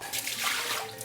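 Lentils being rinsed in water, a steady wash of swishing and sloshing liquid that stays fairly constant throughout, with no voices.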